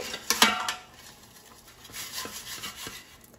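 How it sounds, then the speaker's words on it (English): An air fryer basket holding tortellini is pulled out and shaken, a quick burst of metallic clatter and rattling at first, then softer rubbing and shuffling of the pasta inside, close up with no speech. "let's take out the air fryer basket and just shake and flip them over to just so they cook evenly"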